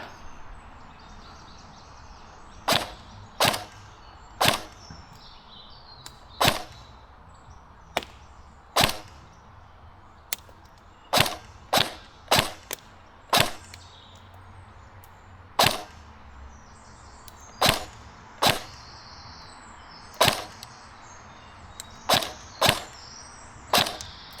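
Tokyo Marui P90 airsoft gun, stock and loaded with .25 g BBs, fires single shots at an outdoor range: about twenty sharp, close cracks spaced irregularly over a quiet background, with no talk.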